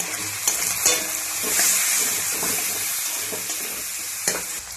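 Coriander, cumin and fennel seeds with ginger paste frying in a pan for a spinach and fish-head chorchori, a loud continuous hiss with a few sharp spatters and stirring scrapes, heard close with no voices.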